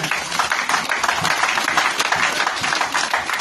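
A church congregation applauds in praise of the Lord with dense, continuous clapping that stays loud and even throughout, a few voices faintly mixed into the crowd noise.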